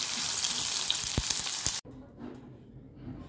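Cashews and onions for chicken dum biryani sizzle steadily in hot oil in a pan, a loud dense frying hiss that cuts off abruptly partway, leaving quiet kitchen noise.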